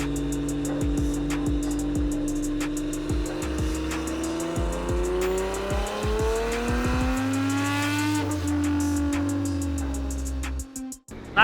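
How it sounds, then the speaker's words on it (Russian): A Nissan GT-R V6 engine revs hard on a dyno stand, a loud sustained drone whose pitch climbs and falls, with sharp ticking pops early on before it cuts off abruptly near the end. "На стенде у нас сегодня редкий для нас звук V-образной шестерки Nissan GT-R."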